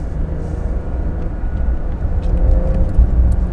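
Porsche 911 Dakar cornering on a damp road, a steady low engine and road rumble from inside the car that swells slightly toward the end, with no talk.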